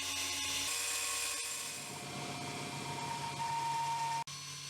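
Machining of a mid-drive eBike gearbox housing: a steady, whining tool drone hums on at moderate level, with a brief sharp click near the end.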